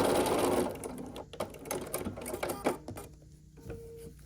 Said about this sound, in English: And we're just going to sew across.